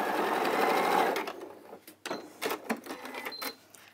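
A sewing machine stitching down the side of fabric for a doorstop or puff cushion at a short stitch length, heard as a steady whirring run that gives way to a few short stitching bursts, close and fairly loud.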